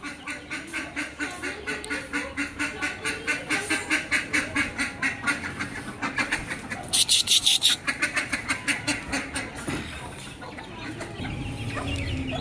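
A group of farmyard ducks quacking steadily in a rapid, rhythmic chorus, loud and close, with a brief burst of louder noise midway and a person's voice faintly underneath.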